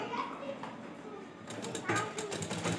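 A sewing machine stitches piping onto a Gujarati Rabari ghaghra belt, a steady close whirring drone with faint voices and household noise in the background.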